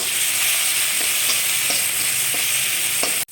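Tomatoes sautéing with salt in a pan for a samosa chutney, giving a steady broadband sizzle with soft periodic scrapes of stirring, close and continuous, cutting off abruptly at the very end.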